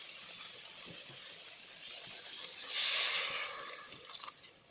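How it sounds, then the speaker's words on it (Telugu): Water is poured into a cooking pot of vegetable biryani, a soft splashing rush that swells briefly midway before settling, quiet and close. "కొద్దిగా వాటర్ వేసుకోవాలి."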